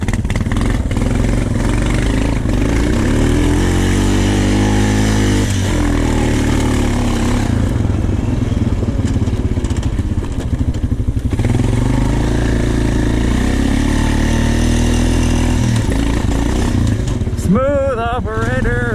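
Honda TRX450 ATV engine revs and drones loudly through the snow, a continuous close motor rising and falling in pitch, with voices talking over it near the end.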